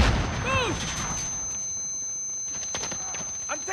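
Gunfire in Call of Duty Modern Warfare (2019) during a hardpoint match on the Khandor Hideout map: short sharp bursts of shots near the end, over a busy bed of game ambience and radio-style chatter.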